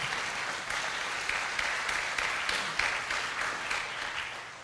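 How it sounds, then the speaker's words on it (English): Audience applause at a live show, steady dense clapping that holds throughout at a strong level before tapering slightly at the end. "Round of applause for that."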